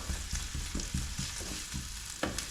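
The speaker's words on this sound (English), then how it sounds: "So fry off the onions." Onions frying in a pan for cheesy gravy loaded fries, a steady close sizzle broken by a regular series of soft stirring scrapes and taps, with no talking.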